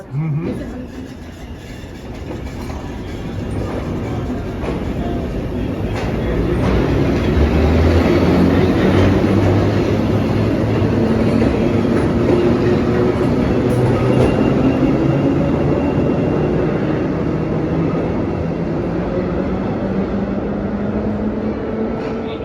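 A CTA heritage train rumbles along on a Chicago rail line during an anniversary celebration, a loud, continuous roar of wheels and car motion with people talking nearby.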